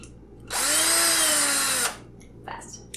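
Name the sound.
power drill quickly driving hex bolts and nuts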